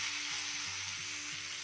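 Vegetables for mutton jalfrezi sizzle steadily as they are tossed in a hot pan over high flame, a continuous bright frying hiss with faint low clatters of the pan repeating about every third of a second.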